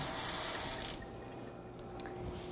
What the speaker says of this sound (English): So let's get these hands washed off again.